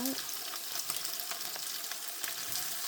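Shrimp stir-fried noodles frying in a pan and browning on one side, a dense, steady sizzle with faint scattered crackles, close and continuous with no speech.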